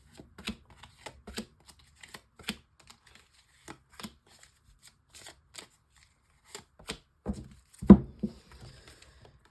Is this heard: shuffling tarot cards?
yes